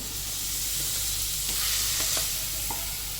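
Crab pieces and crab head stir and sizzle in a hot pan for a spicy village-style crab curry, a steady frying hiss with a few scraping stirs, close up and with no talking.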